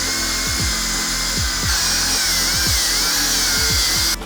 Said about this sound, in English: this is a reverse rotation die grinder